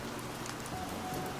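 Rain falls as a steady, dense hiss of drops, even and continuous throughout with no voices.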